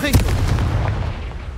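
A Confringo fire blast spell from the video game Hogwarts Legacy erupts as one loud, booming explosive burst with a sharp crack at the start, then rumbles and fades over a second and a half.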